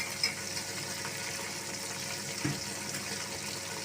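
Nellore-style streaked spinefoot fish curry ingredients, including curry leaves, mint and coriander, stirred in a frying pan with a soft continuous sizzle and occasional faint scrapes, quiet and alone.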